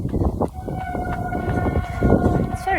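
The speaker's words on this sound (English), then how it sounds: "I think there must be a train." A train passes in hilly Tuscan countryside on a warm day, a steady rumble with a sustained horn-like tone and a rising whine near the end, heard over continuous outdoor noise.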